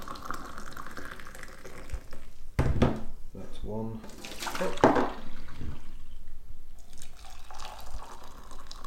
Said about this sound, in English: you've really got to tip the kettle now to get the last part of it out